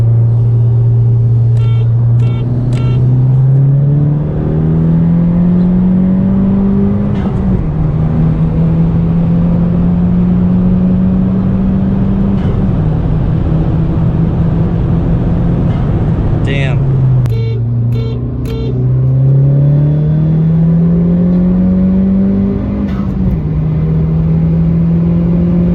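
A stage 1 2020 Honda Civic Si and a 2009 Chevrolet Cobalt SS Turbo race side by side, engines droning loud and close as pitch climbs through repeated gear shifts, with brief dips between pulls and faint voices under the roar.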